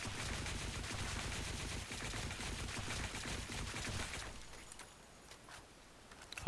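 Rifle in CS:GO firing full auto, a rapid continuous burst of shots lasting several seconds before tapering off, loud and dense with no talk.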